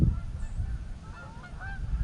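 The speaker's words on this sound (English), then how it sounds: "Group of geese flying over." Geese honk in brief calls as a group flies over outdoors, faint and somewhat distant over low background rumble.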